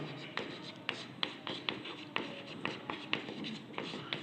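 A pen or chalk writes a statistics formula by hand in a Hindi-language lesson, making steady scratchy strokes with regular tapping accents about twice a second. The sound is close and fairly quiet with faint room noise.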